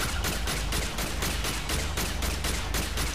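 Rapid automatic gunfire from the sci-fi shooter game Alien Breed: Impact, a dense, steady burst of evenly spaced shots running loud and unbroken throughout.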